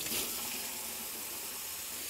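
Hot tap water, about 105 degrees, runs steadily into a cup for bread and pizza dough, a continuous close hiss and splash with no voices.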